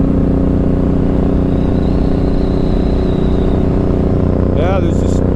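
A Suzuki M109R motorcycle on worn Dunlop Elite 3 tires leans through a corner on a gravel-area road, its engine droning loud and steady over heavy wind rush, with a brief shift in tone near the end.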